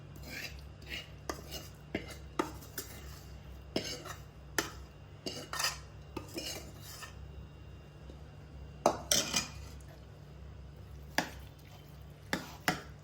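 A spoon stirring a roasted tempering into dry chickpea dal in a pot, Rajasthani style: quiet, close clinks and scrapes scattered irregularly over a low hum, with a few sharper knocks near the end.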